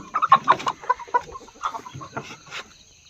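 A four-month-old stag, a young Shamo or Aseel rooster, gives a burst of short, close clucks and throaty calls in quick succession, then trails off into quieter clucking.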